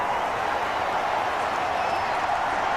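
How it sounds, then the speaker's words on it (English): Steady crowd applause fills a stadium during a simulated New York Giants vs Pittsburgh Steelers football video game, a continuous dense wash of clapping and crowd noise with no distinct voices. "How about some applause for the defense there?"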